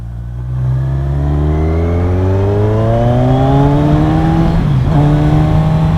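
A 2021 Kawasaki Z1000 naked motorcycle engine revs up loud and close while riding, pitch climbing steadily through the gear with a brief dip near the end before pulling again.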